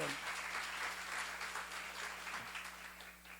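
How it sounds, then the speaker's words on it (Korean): Church seminar audience applauding after a sermon point, a steady wash of clapping at moderate level with a low hum beneath, brief and continuous throughout. "박수."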